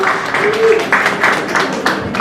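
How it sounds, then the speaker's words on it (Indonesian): Audience applause for an actor being introduced at a film press conference, a steady wash of many hands clapping through the whole stretch, with a voice briefly audible over it. "Kita kasih tepuk tangan"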